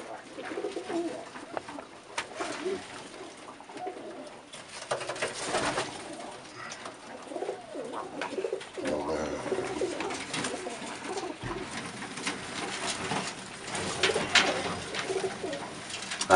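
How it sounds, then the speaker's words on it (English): Tippler pigeons coo repeatedly inside a loft, soft throaty calls close by over low room noise and scattered rustling. "Is that one of Gary's cock bird here"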